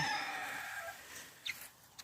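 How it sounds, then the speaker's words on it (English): Faint clucking and a couple of brief bird calls from chickens, with steady background noise throughout. "throw more of this to the chickens because they do love it"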